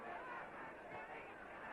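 A boxing crowd roars and cheers as the fighters trade blows toe-to-toe, a dense, steady wash of voices holding at a loud level throughout.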